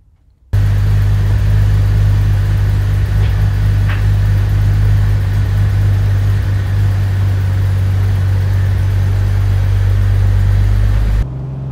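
A Jeep TJ Wrangler engine rumbles steadily with a deep exhaust drone, running continuously at a constant pace while driving, loud and close throughout.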